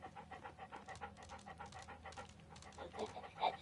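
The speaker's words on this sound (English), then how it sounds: "There's a dog." A dog pants rapidly and steadily throughout, close by, with a faint whimper near the end and no talking.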